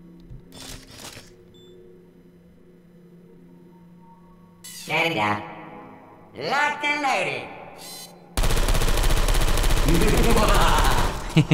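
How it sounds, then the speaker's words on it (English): Portal 2 turret firing its guns, a dense rapid stream of loud mechanical gunfire filling the last few seconds, preceded by quieter game tones, turret chirps and a robotic voice. "let's get the turret to shoot that up then"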